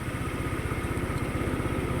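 A motorcycle engine idles steadily with its battery removed, charger test running, a close, loud, even low putter throughout with no talk over it.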